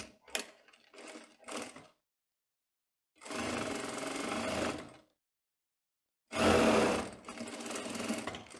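A sewing machine stitching the waistband of a tailored skirt runs in short bursts: three quick stitch runs, then a longer steady run, and a final loud run after a pause, with no speech.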